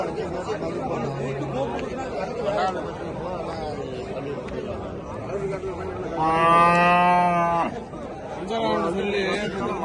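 At a livestock market in Muthunayakkanpatti, a cow lets out one long, loud moo partway through, while people chat nearby before and after it.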